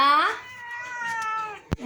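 A single drawn-out meow with a bright rising start that trails off, followed by a short sharp knock near the end.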